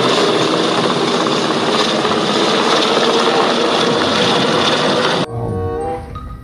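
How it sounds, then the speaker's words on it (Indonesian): A loud, steady roar of an Airbus A380 close overhead that fills the whole stretch, then drops off abruptly near the end. "Wow, ada pesawat terbang Airbus 380."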